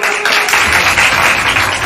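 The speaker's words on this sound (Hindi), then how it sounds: "आप तालियां बजा करके स्वागत कीजिए" Students at an inter college event clap together to welcome a cameraman, a brisk, loud burst of close applause lasting about two seconds.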